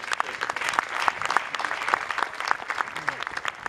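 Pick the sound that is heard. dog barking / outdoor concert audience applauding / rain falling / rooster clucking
outdoor concert audience applauding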